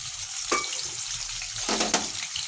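Thin-sliced chicken frying lightly in oil: a continuous close sizzle with a couple of brief louder bursts as the pieces are stirred or moved.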